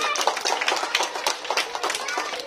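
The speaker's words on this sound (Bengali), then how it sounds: "হাততালি দাও জোরে একবার।" Children at a school magic show on cleanliness clap their hands in quick, irregular bursts, close and fairly loud, with voices talking over the clapping.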